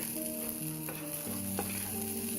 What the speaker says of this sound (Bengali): রসুন পেঁয়াজ মরিচ সব কিছুই ভাজা হয়ে গেছে